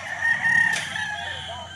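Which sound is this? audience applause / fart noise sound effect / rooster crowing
rooster crowing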